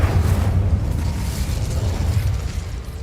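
Incendio fire spell cast in the video game Hogwarts Legacy, heard as a continuous roaring, crackling burst of flame that stays loud and dense for the whole stretch with no voices.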